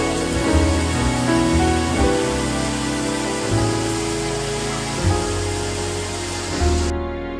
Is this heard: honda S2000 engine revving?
no